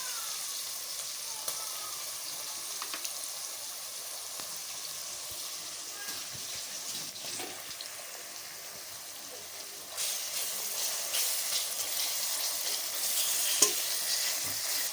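Ginger garlic paste sautéing and being stirred in a pan, a steady soft sizzle with occasional scraping strokes, growing a little louder and brighter toward the end, with no talking.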